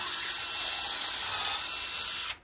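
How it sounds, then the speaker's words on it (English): A DeWalt power drill whirs steadily as it bores a hole in the back of an orchid mount, a loud, close, continuous high whine that cuts off abruptly at the end, with no talking. "I've got my DeWalt drill. I will drill me a hole right here"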